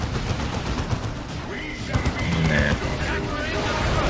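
A Plasma Cannon Dreadnought fires during a Dawn of War (Elite Mod) battle. Heavy, blasting shots and booms land in a dense, continuous wash of battlefield gunfire and explosions.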